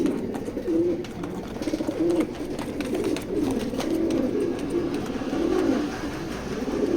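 Racing pigeons coo continuously inside a loft, several low throaty calls overlapping in a dense, close murmur with faint background noise.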